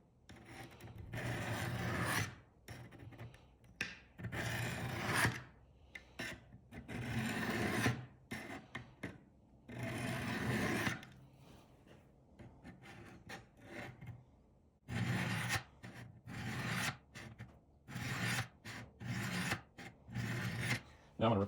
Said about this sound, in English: We'll start with a coarse steel. Hold the knife at a 90-degree angle.